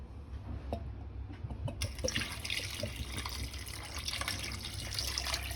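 Water pours and splashes steadily into a cooking pot of fish kofta curry close by, a continuous liquid rush that grows slightly fuller as the vessel fills.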